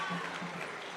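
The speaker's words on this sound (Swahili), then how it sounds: "Kimani Ichungwa, tumpigeni makofi." A church crowd claps for Kimani Ichungwa in a dense, steady wash of applause that fills the whole brief moment, with voices mixed in.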